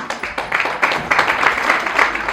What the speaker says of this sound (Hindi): तो आइए तालियों की गूंज के साथ स्वागत करें हमारे श्लोक वाचक का।